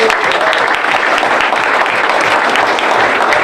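Steady, dense applause from a crowd at a sports park groundbreaking ceremony, clapping continuously at full volume throughout with no pauses.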